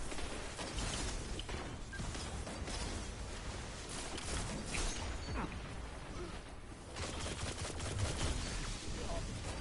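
Grenade blasts and continuous gunfire in a Destiny Crucible Control match, a dense unbroken wall of shots and explosions with voices underneath.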